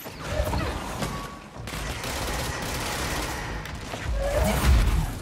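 Enemy gunfire in the video game Control, a dense barrage of shots and impacts crashing steadily throughout, loud and close, building to heavier bursts near the end.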